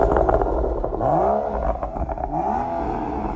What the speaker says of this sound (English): It was nice sounding exhaust.